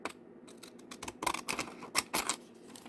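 A pair of scissors snips repeatedly through paper, a series of crisp, close cuts in quick succession with brief pauses between them.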